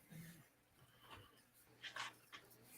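A Labrador dog pants close by indoors, its breathing uneven with a few brief whimpery bursts, while it waits to be let outside.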